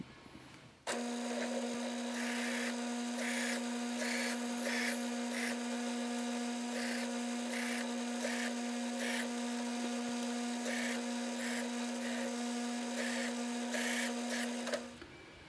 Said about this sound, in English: We're gonna go on the wire brush, an engine turn.